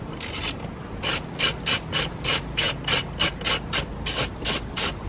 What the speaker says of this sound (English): I'm going to take one screw, put it in here.